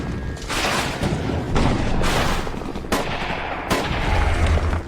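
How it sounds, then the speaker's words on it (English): Bombing explosions in Afghanistan, a series of loud bursting blasts and rumbling booms in quick succession with sharp cracks, continuous heavy war noise with no voices. "The first phase of this war was the bombing of Afghanistan."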